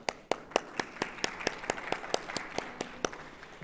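A small audience at a university event on education applauds a guest vice-rector with steady, rhythmic clapping. The claps are fairly sparse and moderately faint.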